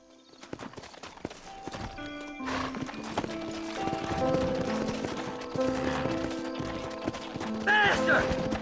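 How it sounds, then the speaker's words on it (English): Horses clip-clop and gallop in the Red Dead Redemption video game, hoofbeats growing busier over game music and tones, with a whinny and character speech mixed in. "Horses are over here!"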